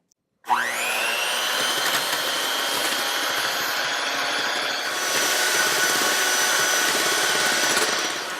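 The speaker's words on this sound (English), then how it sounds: "we're just going to blend this on low first" Coconut milk whipped in a blender running on low speed, a steady continuous motor whine with a slight rise in intensity partway through, loud and close with no talk.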